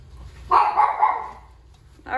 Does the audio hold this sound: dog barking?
yes